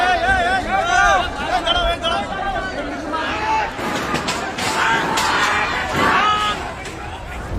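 A street crowd in West Bengal during unrest, with police present, produces a busy babble of many voices, shouts and scattered knocks throughout, while a narrator speaks over it.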